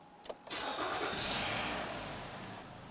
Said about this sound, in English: we can go ahead and start the engine